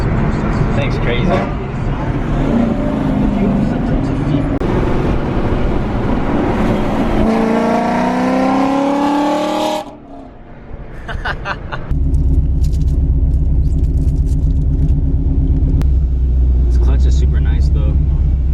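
A Ford Mustang GT350 exhaust revs loudly close by, with rising harmonic sweeps before a sudden drop, then a deep steady rumble at idle, and people talk throughout.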